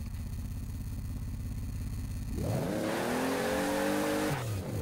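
A Toyota Supra engine in the video game Forza Horizon 4 revs up and holds a rising, droning pitch over low rumble, loud and close, then drops off near the end.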